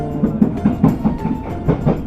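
A train pulls away from Jatinegara station heading toward Pasar Senen, its wheels beating a steady clickety-clack over rail joints with a low rumble underneath, close and continuous.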